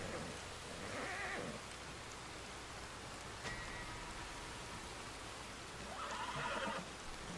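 A horse in a video game neighs twice, with a whinny early on and another near the end, heard faintly through steady rain-like noise with no talk.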